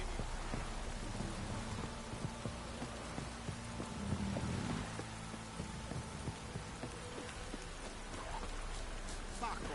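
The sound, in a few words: heavy rain in a video game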